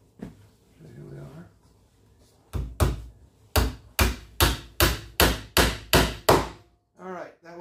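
Close, sharp hammer blows drive a new nail into a woodworking jig, about nine evenly spaced strikes in a steady rhythm after a moment of soft talk.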